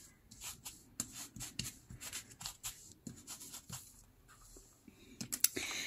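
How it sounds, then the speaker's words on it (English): Fabric edges being torn away from a glued and sewn newspaper-made cover, a series of short dry ripping and rustling bursts at close range, irregular in rhythm, with a few sharper snaps near the end. "I'm gonna again kind of rip off the edges of that fabric underneath"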